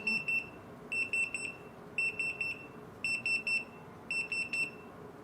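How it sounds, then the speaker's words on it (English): A Retekess TD173 restaurant pager beeps in five evenly spaced bursts of rapid high-pitched electronic chirps, loud and close, with quiet gaps between them. "Okay, you can see it only has the beep, no light."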